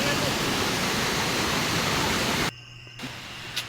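Nabaloto Falls waterfall roaring as a loud, steady broadband rush close by, cutting off abruptly partway through to near quiet with a couple of faint knocks.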